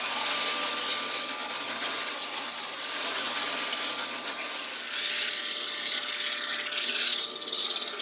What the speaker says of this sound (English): that fairing went pretty good with the disc sander